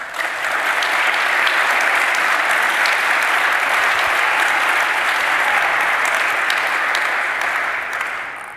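An audience applauds steadily to welcome panelists at a campus free speech summit, a dense, loud wash of clapping that holds evenly for several seconds and then begins to fade.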